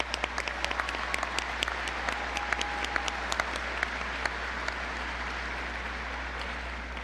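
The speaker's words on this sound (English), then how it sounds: "Let's take a moment to applaud them." Applause from a college commencement audience fills the hall, a dense steady patter of many hands clapping with sharp individual claps standing out, sustained throughout at moderate volume.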